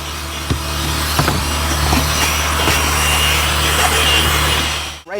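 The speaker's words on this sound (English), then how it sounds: "I switched over to the corner drill brush to really get in the edges of this carpet" A drill-driven corner brush scrubs the edges of a moldy carpet, giving a steady loud abrasive rubbing drone with a few sharper scrapes, cutting off near the end.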